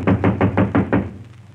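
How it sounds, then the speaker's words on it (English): Six firm, evenly spaced knocks on a door, a sound effect from an old Jack Benny radio comedy broadcast, loud and close with a short fading tail. "Who's that knocking on the door, Mary?"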